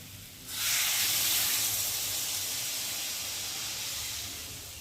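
Water poured into spiced potatoes frying in oil for aloo dum sets off a sudden loud steaming hiss that holds steady and slowly fades, close up with no talking.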